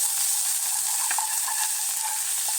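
Garlic gently frying in olive oil in a small pan, a loud, steady hiss of sizzling with faint crackles, close up and uninterrupted by voices.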